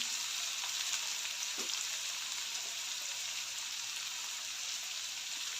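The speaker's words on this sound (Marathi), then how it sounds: "यामध्ये थोडंसं मीठ घालते जेणेकरून कांदा लवकर भाजला जाईल" Chopped onion frying with poha in a pan, giving a steady, even sizzle that stays moderately quiet throughout, with no voices over it.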